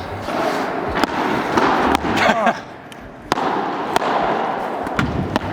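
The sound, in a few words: tennis balls being hit during training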